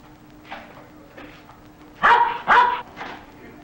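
Doberman pinschers bark in a short burst, two loud close barks after a few softer yips and whines, set in a crime-caper movie trailer.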